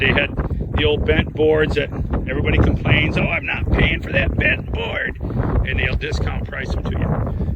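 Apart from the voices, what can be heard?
wind blowing into microphone outdoors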